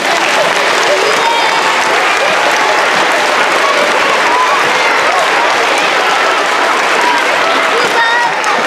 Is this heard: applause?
yes